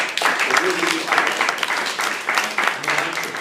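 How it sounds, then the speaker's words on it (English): An audience of teachers applauds themselves, dense continuous clapping with pulsing swells and some cheering voices mixed in, filling the room at fairly loud level. "So first thing I want y'all to do is give yourselves a round of applause."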